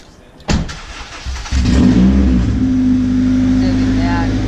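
A car engine cranks and catches on a newly fitted 2.5 inch exhaust, then settles into a loud, steady idle with a deep rumble right up close, and people talk faintly over it.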